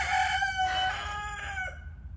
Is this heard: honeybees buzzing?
no